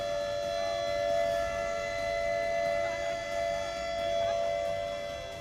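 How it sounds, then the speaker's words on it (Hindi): A civil defense warning siren wails steadily over the Sainj valley in Kullu after a cloudburst, a sustained, fairly distant tone holding for several seconds with no voices. "इस संकट को लेकर खतरे का सायरन बज उठा।"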